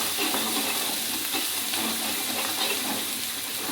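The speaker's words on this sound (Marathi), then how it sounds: "हे अद्रक आणि लसूण आहे, बारीक मिक्सरमध्ये काढून घेतलं मी. त्याला आता व्यवस्थित जरा परतून घेतलं" Ground ginger and garlic paste sautéing in hot oil for a brinjal sabzi, a dense, continuous close sizzle with faint stirring scrapes and no talk.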